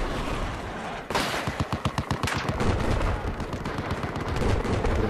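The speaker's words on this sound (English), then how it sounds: "Fucking tanks." Battlefield 4 Rush-mode multiplayer combat: a heavy blast, then rapid rattling bursts of automatic gunfire and booming tank fire, loud and continuous, with the rumble of battle filling the background.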